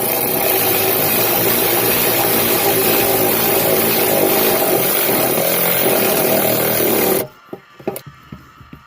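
A power tool runs loud and continuous for about seven seconds while tightening 18mm bolts on a truck storage box under the rear seat of a Colorado ZR2 Duramax, then cuts off, followed by a few faint clicks and knocks.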